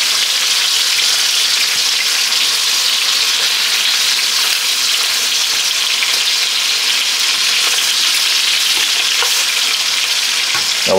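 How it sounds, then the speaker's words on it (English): Pork chops frying in bacon grease in a pan, a steady, loud, dense crackling sizzle that holds unbroken throughout, close up, with no talking. "And get them all in the pan and get some color on them."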